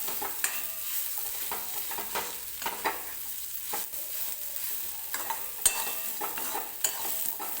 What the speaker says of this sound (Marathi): छान असे मसाले सुद्धा मी व्यवस्थित याच्यामध्ये परतून घेतलेले आहेत तेलामध्येच